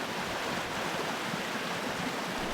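Spring-fed creek water at Big Hill Springs Park splashing steadily in a dense, continuous broadband rush, close and even throughout with no voices.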